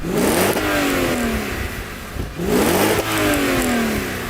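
An Audi RS car engine revs hard twice, each time climbing in pitch and then dropping back, loud and close with a gritty roar and no talk.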